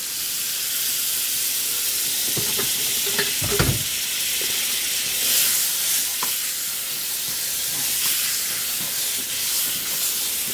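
About three tablespoons of butter melt in a pan with a little olive oil, giving a steady close hissing sizzle, with a few brief clanks of the pan or utensil.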